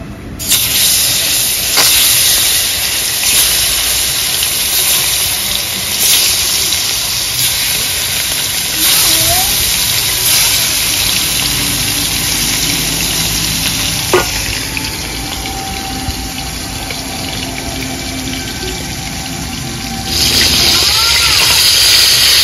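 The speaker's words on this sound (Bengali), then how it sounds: "বন্ধুরা তেল গরম হয়ে গেছে, এবার মাছগুলো তেলে ছেড়ে দেব।" Pieces of shol (snakehead) fish fry in hot oil with a loud, dense, continuous sizzle and hiss, close up, with a few faint utensil knocks and a voice talking briefly over it.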